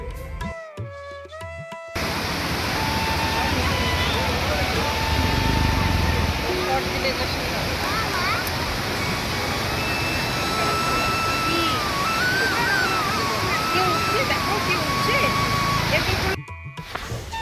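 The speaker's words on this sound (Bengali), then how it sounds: "শোনো তোমরা কি সুন্দর জলের শব্দটা শন শন শন শন একটা শব্দ" Water rushes loudly and continuously in a broad steady hiss outdoors, heard up close for most of the stretch, with a voice speaking briefly at the start and end.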